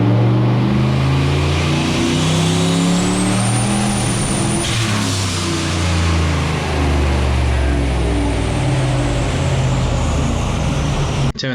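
A turbocharged car engine on a boosted run at about 17 to 20 pounds of boost, a steady loud roar with a rising high whine, continuous throughout.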